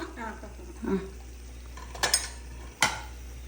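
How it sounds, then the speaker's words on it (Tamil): A spoon gently stirs fish curry simmering in a pot, giving a few distinct metallic scrapes and clinks against the vessel over a soft bubbling background, with brief speech near the start. "லைட்டாக தான் கிண்டணும்."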